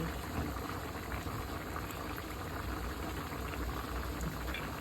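Ginataang pakbet, vegetables such as okra and pechay simmering in coconut milk, boils hard in a pot with a steady, dense bubbling that stays close and even throughout, with no talk.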